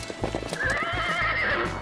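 A cartoon unicorn pony gives a long, loud whinny while its hooves clip-clop in a quick, steady rhythm beneath it.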